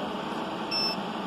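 A laser cutter emits a single short, high electronic beep as its autofocus finishes, clear over a steady machine hum and room noise.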